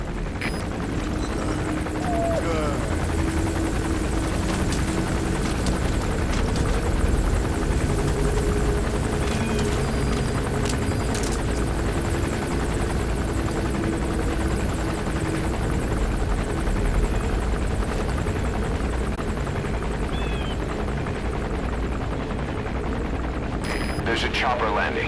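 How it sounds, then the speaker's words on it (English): A helicopter gunship in the video game Metal Gear Solid V: The Phantom Pain thrums steadily and loudly throughout as it arrives to land, with scattered gunfire bursts and game effects layered over the rotor drone. "There's a chopper landing."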